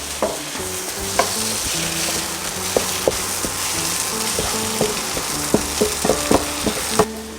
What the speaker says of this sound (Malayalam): ഈ പച്ചമണ ഒന്ന് പോയി കിട്ടണവരൊന്ന് വഴറ്റിയെടുക്കുക മൊത്തത്തേക്ക്.